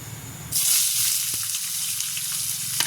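Onion dropped into hot oil with cumin seeds that have turned red raises a sudden loud sizzle that settles into steady close frying.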